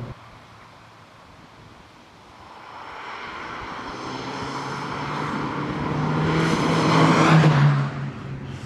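A 1980s Saab 900 Carlsson turbo engine revs up through its range, its steady drone rising in pitch and growing louder toward a peak before easing off, with wind noise underneath.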